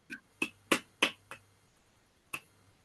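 Sparse, scattered claps or snaps from a few online meeting participants applauding a speaker, five quick close sharp hits in the first second and a half, then a pause and one final clap, with quiet room noise between.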